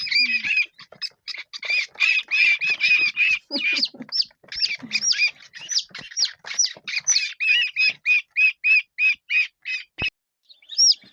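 Newly hatched bantam chicks, still wet from the shell, cheep steadily in a close, busy chorus of short high peeps, with a few lower squawks mixed in and a brief pause near the end.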